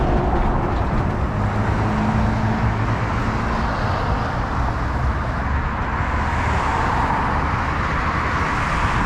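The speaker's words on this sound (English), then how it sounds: "Pretty busy road right here" Steady traffic on a busy downtown city road, heard from a bicycle riding alongside: a continuous loud roar of passing cars and engines with broad road noise and no pauses.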